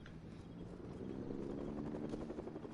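Distant helicopter in the Fortnite video game, a steady low rotor drone that holds throughout at moderate level.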